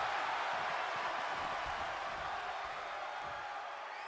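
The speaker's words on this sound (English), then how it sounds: "the crowd is actually chanting they want tables" A steady, loud crowd roar fills the arena of a WWE 2K26 Extreme Rules match, the video game audience chanting for tables in a dense, continuous wash with no individual voices standing out.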